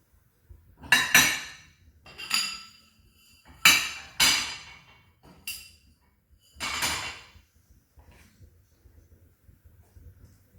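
Plates clink and clatter close by in about six separate bursts as they are lifted out of a dishwasher and stacked, with quiet pauses between.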